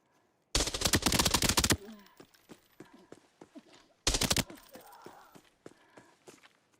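Video game gunfire in two loud automatic bursts, the first over a second long and the second shorter, with quieter in-game footsteps and clatter between them.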